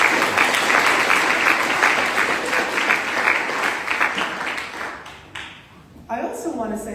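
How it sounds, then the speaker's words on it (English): Applause fills a hall at the Sloan STEM Teaching Awards, a thick wash of clapping that fades after about five seconds before a speaker's voice comes in. "Applause for our school leaders."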